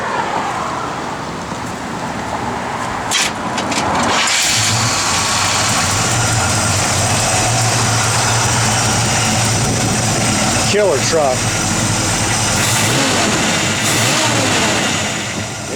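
A 1972 Chevrolet C10 pickup's big-block engine idles with a heavy rumble and then revs up, loud and steady nearby, while someone speaks briefly over it.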